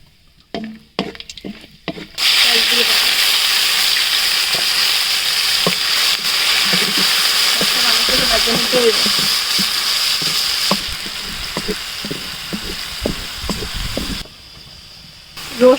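Spices sizzling hard in a wok-style kadai right after duck eggs were fried in the same pan: a loud, steady hiss with scattered pops and stirring scrapes, preceded by a few clatters and ending abruptly.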